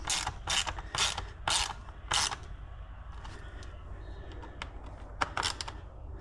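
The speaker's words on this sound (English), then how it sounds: "and then we just thread our bolts back in." A hand ratchet threads bolts back into an amber fender light on a GMC Sierra 2500 pickup. It gives several quick bursts of close, sharp clicking, then quieter scattered ticks and a few more clicks near the end.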